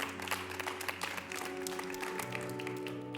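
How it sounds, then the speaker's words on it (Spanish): A church congregation applauds faintly, with scattered claps heard over sustained musical tones. "Denle un fuerte aplauso a Dios"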